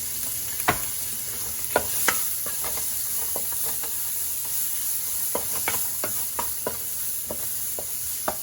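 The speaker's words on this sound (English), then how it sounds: "I'm just gonna fry this up till my sausages get a little char on them" Sausages and onions with Creole seasoning frying in a pan for Southern-style fried cabbage, with a constant close sizzle and sharp, irregular scrapes and taps from a stirring utensil.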